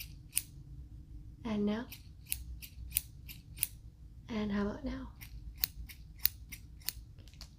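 Scissors snip in a few sharp, crisp clicks at close range, scattered irregularly around two brief soft-spoken questions.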